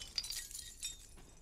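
Objects breaking in Resident Evil Village inside Castle Dimitrescu, heard as a few quick glassy shatters and cracks at low level, with a second burst of debris shortly after the first.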